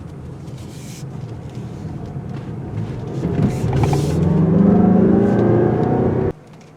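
A 2021 Mazda CX-5 Signature AWD drives on a city street. Steady road and engine noise rises as the SUV picks up speed, then drops off sharply near the end, with no talking.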